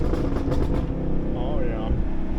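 A 2023 Chevrolet Camaro SS with an MBRP axle-back exhaust rumbles loudly while driving, with a deep burbling exhaust note and crackling pops, as a voice speaks over it.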